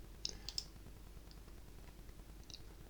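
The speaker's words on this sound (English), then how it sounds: "So if I click into it," A computer mouse gives a few crisp, quiet clicks near the start and another pair toward the end over faint room hum.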